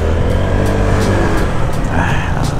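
A motorcycle accelerates, its engine revving up in a loud, close, continuous drone while a voice speaks over it.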